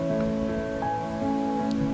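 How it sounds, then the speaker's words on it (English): Heavy rain pattering steadily on a surface at an anthropological fieldwork home, a dense, even hiss of drops that holds at constant loudness under a faint steady tone. "it can rain really hard sometimes"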